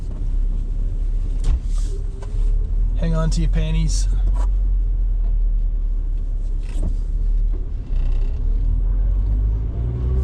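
A modified car engine with an added airbox rumbles and revs while driving in the rain, a loud low drone under a voice, which is heard briefly near the start.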